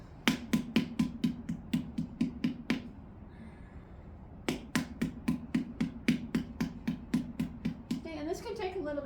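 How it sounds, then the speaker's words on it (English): A wooden paddle slaps the clay seam of a large pot on a throwing wheel in quick, even strikes. The strikes stop for a moment, then resume at the same steady pace, with a faint voice near the end. "I'm going to paddle it, turn it, hold it from the inside against that seam"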